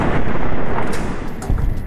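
Rifle fire from Boone in Fallout New Vegas: a dense, booming stretch of continuous gunfire and rumbling impacts, loud and close, with no speech over it.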